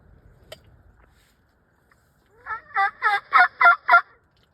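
A wild turkey gobbles during a snowy Minnesota spring hunt, a single loud rapid gobble of six pulsing notes close by after near silence, preceded by a faint rustle.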